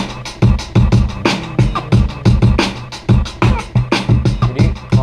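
Drum sample from a song: a loud, steady groove of punchy kick hits and crisp snare cracks with bright cymbal wash, repeating in a tight rhythm with no voices.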